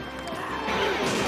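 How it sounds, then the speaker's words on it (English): Clay pots smashed in the King's storeroom on the Legends of the Hidden Temple game-show set, heard as a steady, dense crashing clatter that fills the whole moment at close range. "smashing the pots"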